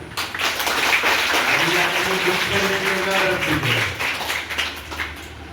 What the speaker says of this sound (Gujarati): એમના માટે જોરદાર તાળી.